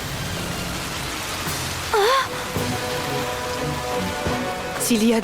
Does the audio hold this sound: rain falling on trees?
yes